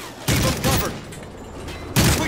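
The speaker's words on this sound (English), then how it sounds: "We're taking fire!" Bursts of automatic gunfire in Call of Duty: Modern Warfare 3, loud close volleys in two clusters separated by a quieter stretch of battlefield noise.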